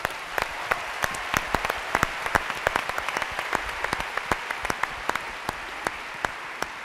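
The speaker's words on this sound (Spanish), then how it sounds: "un aplauso para ustedes." A crowd at the México Siglo XXI 2015 event applauds, with dense clapping and sharp individual claps standing out in an irregular rhythm across the whole stretch.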